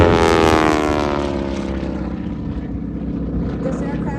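A Beech 18 and an AT6 Texan propeller aircraft fly past at an air show, a loud droning engine roar that slowly shifts pitch as it passes, with an announcer talking over it.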